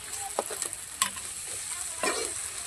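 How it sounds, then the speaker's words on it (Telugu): Ginger garlic paste with ground sesame, cloves and cinnamon frying in a pan for liver fry, giving a soft steady sizzle with a few brief stirring scrapes. "ఇప్పుడు అయితే అండి దీన్ని బాగా పచ్చివాసన పోయే వరకు ఫ్రై చేసుకోవాలి"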